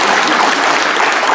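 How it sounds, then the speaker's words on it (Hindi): Dense, loud applause from an audience in a hall during a motivational talk, a continuous wash of many hands clapping at once, close and unbroken. "हाँ, तालियां बजा लीजिए भाई साहब के लिए।"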